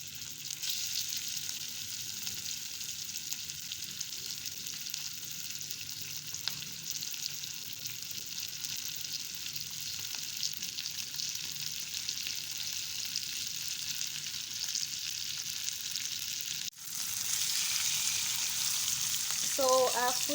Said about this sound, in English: that's my onion frying